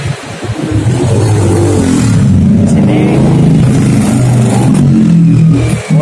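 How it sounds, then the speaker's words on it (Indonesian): A Honda Beat Street LED 2020 scooter engine, started remotely by a Vinyx A1 Pro alarm, turns over and settles into a loud, close idle with steady low rumble for several seconds before cutting off. "Untuk tombol petir ini yaitu untuk menghidupkan mesin ya, tanpa menggunakan kunci kontak"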